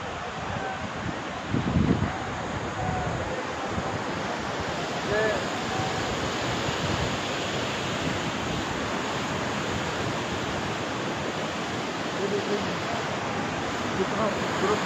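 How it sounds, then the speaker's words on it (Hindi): A waterfall in Kumrat Valley, Pakistan, roars as a steady, dense rush of falling water filling the whole clip, close and unbroken, with a few faint birdlike chirps above it. "आबशार दिखाता हूँ, जो वो पानी उसका नीचे आ रहा है"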